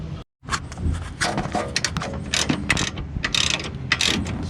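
Ratchet wrench loosening 14 mm engine mount bolts on a 2007 Honda Odyssey, rapid close clicking bursts in repeated strokes with brief pauses between pulls.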